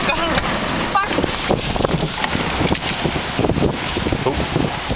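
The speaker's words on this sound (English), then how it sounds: "very windy" Strong wind buffets the microphone in gusty, roaring bursts during a downhill bike uplift at the Sunshine Cup, loud and continuous throughout, with voices speaking under the rumble.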